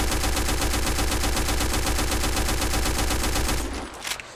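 Sustained automatic fire from an SR-47 rifle in the online shooter Black Squad, a loud rapid stream of shots lasting several seconds before cutting off with a short trailing echo.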